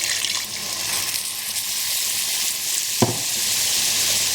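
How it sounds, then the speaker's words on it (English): Water poured into a pan of golden fried onions for Bangladeshi egg curry sets off a sharp hiss and burst of sizzling over steady frying crackle. "So I'm just going to add 100 millilitres of water to this."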